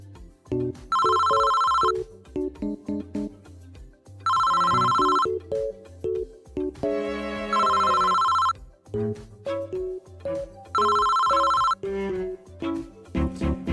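A telephone rings in repeated bursts of bright electronic trills, four rings spaced about three seconds apart, mixed with music and other sounds in between.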